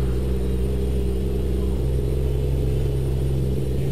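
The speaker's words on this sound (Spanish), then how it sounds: "A pisar el acelerador y vámonos con todo." Kenworth T800 truck engine in a driving video game, pushed hard on the accelerator: a loud, steady, low droning rumble that holds without a break, with no talk.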